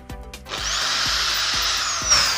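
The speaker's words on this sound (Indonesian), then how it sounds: "Tancapkan seperti ini, nanti kita bor." A power drill bores into wood while a trap table is assembled. A few knocks come first, then the motor spins up into a loud steady whine and grinds on through the bit.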